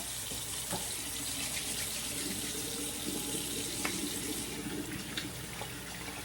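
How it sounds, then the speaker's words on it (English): Tap water runs steadily into a sink as hands are washed, a continuous close splashing hiss with small bursts of splatter throughout and no talking. "I'm going to wash my hands"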